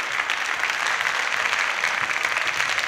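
Studio audience on an Azerbaijani TV comedy show applauds to welcome a finalist, a steady dense wash of clapping that holds evenly throughout with no voices over it.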